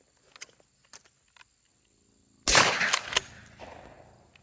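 One sharp, loud gunshot cracks out during an outdoor dog training session. A few faint ticks and footsteps come before it, and a short decaying echo follows.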